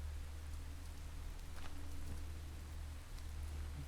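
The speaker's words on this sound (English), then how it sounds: "And it's raining." Soft, steady patter of video game rain in Minecraft under a low hum, with a few faint thuds, quiet and continuous throughout.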